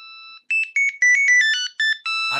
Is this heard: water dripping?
no